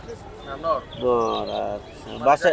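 Pigeons coo and warble at an open-air pigeon market in Hemayetpur, with several soft, tonal calls in the foreground, while people talk and bustle nearby.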